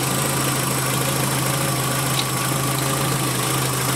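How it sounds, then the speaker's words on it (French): A Renault Twingo engine idles steadily after a coolant refill, with the expansion tank cap open, giving a continuous even hum with a low vibrating drone and no pauses or voices. "j'ai démarré le moteur, bouchon du vase d'expansion ouvert, niveau max"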